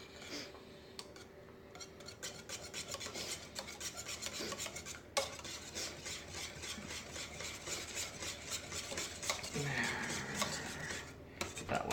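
Stainless steel whisk scraping and rasping steadily against the inside of a stainless pot while making a fruit tart filling, a continuous close metallic rubbing with brief clinks.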